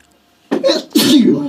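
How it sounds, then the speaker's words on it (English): A sudden sneeze from a man on a live radio talk show about health insurance funding, a sharp two-part burst close to the microphone and loud against a quiet studio. "Bless you."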